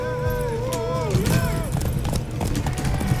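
Horses gallop with rapid clip-clop hoofbeats in The Witcher 3, steady and close over game music, with a brief neigh-like tone and talk mixed in.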